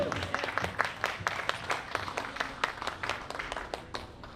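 Applause from a live audience following a song at a cultural performance, a steady patter of many hands clapping at moderate distance, continuous for several seconds without speech.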